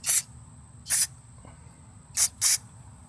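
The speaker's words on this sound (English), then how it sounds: "Let's see what a little brake clean and compressed air does for us." Brake cleaner spray and compressed air blasting a carburetor from a 150cc GY6 Chinese quad: four loud, sharp hissing bursts, close up, with short quiet gaps between them and no talking.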